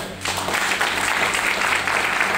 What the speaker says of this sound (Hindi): वाह, जोरदार ताली हो